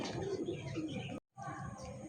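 Soft cooing of pigeons at a pigeon farm selling local and foreign breeds, low repeated coos heard faintly with a brief gap of silence midway.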